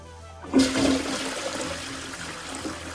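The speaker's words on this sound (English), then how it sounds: "you can flush the toilet now, finally" A toilet flushes in the video game Satisfactory, starting abruptly with a loud rushing surge of water that settles into a steady draining swirl.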